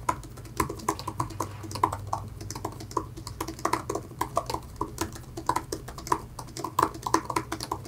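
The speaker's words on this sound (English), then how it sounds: "it's such a great keyboard and I enjoy how it types." Fast, steady typing on a compact iPad keyboard, the keys clicking in quick irregular bursts up close, with no talking.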